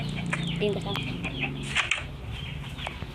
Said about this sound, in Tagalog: At ang ingay ng mga manok sa akin.